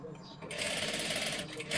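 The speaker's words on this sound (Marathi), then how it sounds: "इथे बरोबर इथपर्यंत आपण मार्किंग केलं का तिथपर्यंत डबल शिलाई मारून घ्यायची." A sewing machine runs a double line of stitching on a size 38 princess blouse, a quick steady whirring rattle that starts after a brief pause and continues close and clear.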